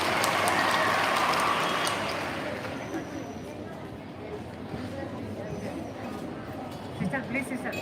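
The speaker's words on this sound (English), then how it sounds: "Once again, a big round of applause" A school audience at an investiture ceremony applauds, a dense clapping wash loud at first, then fading into crowd murmur and talking voices.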